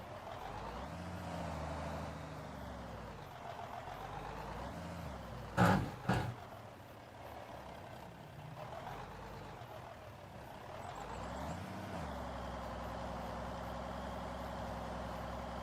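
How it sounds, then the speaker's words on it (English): A tractor in a video game idling with the same engine sound as an International semi truck, a steady low diesel rumble with slight throttle swells and a sharp brief hiss of air release partway through. "This tractor uses the same sound profile as one of the semis. I think the International semi I use, it runs the same damn sound profile."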